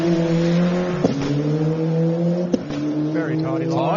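An old ex-recce rally car powers out of a corner on a forest special stage, its engine note climbing steadily with two sharp gear-change breaks as it pulls past at close range.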